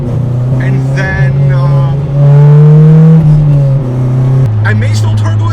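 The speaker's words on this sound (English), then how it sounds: "we're going to have some little highway pulls with this car" Acura RSX engine accelerating on a highway pull, a loud steady drone that rises in pitch through the revs, dips briefly at a shift, then settles lower, heard alongside someone talking.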